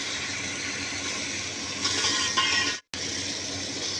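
Rice water poured into a pot of beef pulao, a steady broadband hiss of liquid over a simmering base, building briefly before a sudden cut to silence, then resuming.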